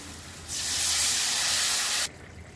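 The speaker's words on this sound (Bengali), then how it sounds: "এবার জল দিয়ে দিচ্ছি।" Water poured into a hot pan of fried pumpkin with turmeric, chili powder and cumin powder, for a rohu fish curry with kalonji tempering, sets off one loud, sharp burst of steaming hiss lasting about a second and a half, then cutting off abruptly.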